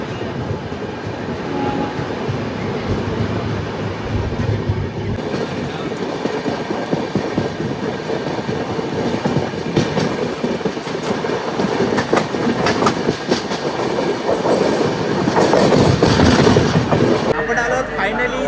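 Passenger train in 3rd AC running on the rails between Vapi and Palghar toward Mumbai, a steady loud rumble with rhythmic clickety-clack of wheels, swelling near the end, with faint voices in the coach.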